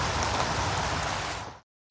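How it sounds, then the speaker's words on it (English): Steady rain patters over an allotment garden, a dense hiss of drops that cuts off abruptly into silence near the end. "It is raining again."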